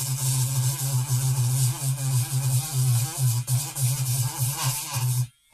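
A DSPIAE mini drill, a small hobby pin-vice drill used for ejector pins, runs with a steady, close, high-pitched motor buzz for about five seconds before cutting off.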